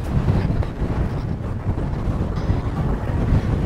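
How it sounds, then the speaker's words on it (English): Strong wind roars and buffets steadily through a tunnel in the Rock of Gibraltar, a low rushing gust hitting the microphone throughout with no voices. "Wow, it's windy through here."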